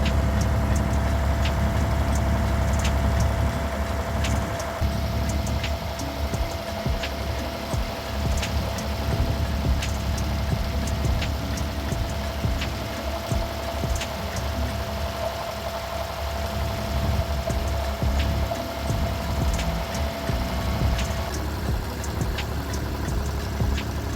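Steady, loud engine drone of a boat during a boat ride in Dubai, continuous low rumble with a constant hum and wind-like noise throughout, no talk.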